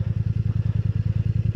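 A Kymco AK 2024 scooter engine idles while parked on its side stand, a loud, close, steady rapid low thumping pulse with no voices.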